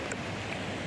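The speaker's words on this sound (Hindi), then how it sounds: "इतना तेज़ हवा है यहाँ पे" Strong wind gusting at Jung Waterfall on a rainy day, a steady broadband roar buffeting the microphone throughout, close and fairly loud with no speech.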